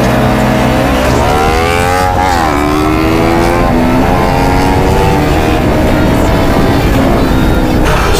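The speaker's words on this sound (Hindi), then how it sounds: "चार बाइक जा रहे हैं।" Two sport motorcycles, a KTM Duke 390 and a Kawasaki Ninja 400, drag racing: loud engine notes rise and shift through gears close by, steady and continuous without speech.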